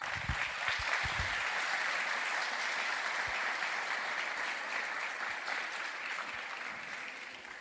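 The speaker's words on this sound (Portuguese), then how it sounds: "aplauda Jesus pela vida dele" A church congregation applauds steadily, a dense, even wash of clapping that holds for several seconds and then slowly tapers, with a few low thumps early on.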